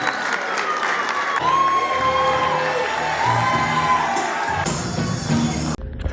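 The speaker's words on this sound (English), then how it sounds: "A round of applause for Dr. Blue." An event audience applauds and cheers at a community gathering, a dense steady wash of clapping with whoops and shouts over about six seconds, while background music tones run underneath.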